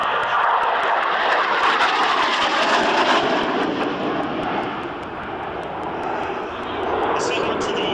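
A Harrier jet with a single Rolls-Royce Pegasus engine at the 2006 Biggin Hill Air Show gives a loud, continuous broadband roar for the whole stretch, easing slightly midway before swelling again.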